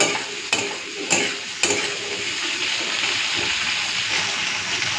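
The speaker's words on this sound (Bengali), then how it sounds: "তো কচুরলতি আর পেঁয়াজটা দিয়ে দিয়েছি, এরপরে একটুখানি ভেজে নিচ্ছি দুটোকে" Taro stolons and onion frying together in a pan, a loud continuous sizzle opened by three sharp scraping stirs in quick succession, then settling into a steady hiss.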